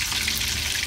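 Fish frying in hot oil, steady loud sizzle and crackle filling the whole moment with no voices.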